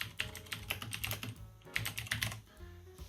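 Rapid clicking of keys being typed on a computer keyboard, close up, with a few short pauses.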